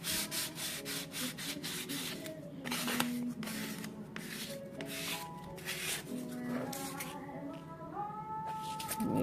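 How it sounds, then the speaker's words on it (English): Fine-grit sandpaper lightly rubs over dollhouse wood in a quiet, uneven series of short scratchy strokes, close by and alone. "now we're going to just take this sandpaper"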